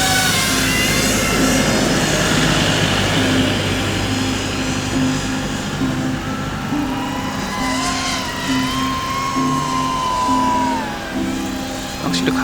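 FPV drone fitted with T-Motor Velox motors flying over a hillside near power lines, a steady loud motor and propeller whine with shifting pitch, close and continuous throughout.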